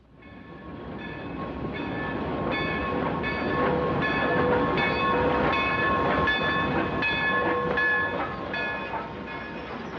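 A train rumbles past steadily with a rhythmic clatter of wheels on rails and tonal metallic squeals, building then holding loud throughout; no talking.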